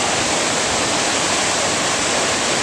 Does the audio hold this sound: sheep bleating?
no